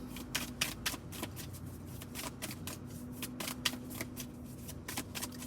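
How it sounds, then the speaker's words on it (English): A deck of tarot cards is shuffled vigorously and repeatedly, with rapid crisp riffling slaps in a steady rhythm, close by with no talk over it. "I'm like aggressively like shuffling up out these cards."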